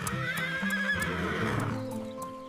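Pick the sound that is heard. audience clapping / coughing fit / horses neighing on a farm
horses neighing on a farm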